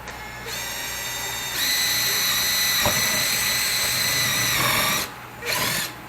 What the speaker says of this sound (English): I'm going to go ahead and put 2 more rivets on this side